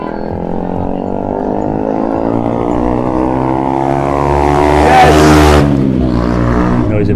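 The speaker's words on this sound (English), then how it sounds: "Noisy motorbike." A noisy motorbike passes along a lively Blackpool street at night, its engine droning steadily and swelling louder as it nears, peaking with a rasping burst before quickly fading away.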